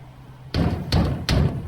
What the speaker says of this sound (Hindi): जाने कब से नॉक कर रहा होगा।